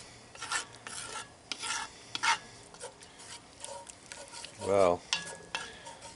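Chorizo chili with beef broth stirred in a Dutch oven, repeated scraping strokes of a utensil against the pot over a low simmering sizzle, irregular and close, with one short exclamation from a voice.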